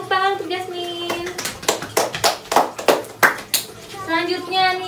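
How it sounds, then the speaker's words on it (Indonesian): Short burst of classroom clapping from students for a classmate during a teaching session, a few sharp claps in a cluster between stretches of a teacher's voice speaking before and after. "beri tepuk tangan untuk Jasmine"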